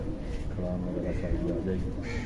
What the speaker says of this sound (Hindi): कबूतर काफ़ी सारे हैं इंशाल्लाह